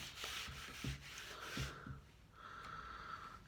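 Light sanding of a wooden shelf between coats of finish, heard as several soft rubbing strokes in uneven rhythm, close by and fairly quiet, with no talking.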